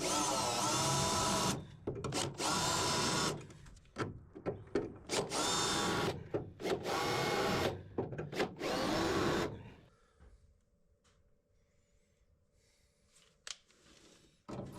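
Spot welds being drilled out of a car's floor pan rocker area, a loud power-drill whine in several bursts with short pauses, then dropping to a faint low hum near the end.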